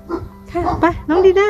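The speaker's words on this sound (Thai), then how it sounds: "เสียงหมาเห่า" A dog barks in short yapping bursts while someone talks over it, close by, during an outing to a café at a golf course.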